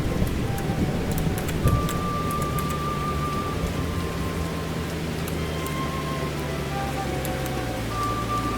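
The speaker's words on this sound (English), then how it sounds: "Wow, the raining is crazy." Steady heavy rain from a thunderstorm in the storm-chasing game CHASED pours down continuously, a dense even hiss with faint distant rumbles and brief tones underneath.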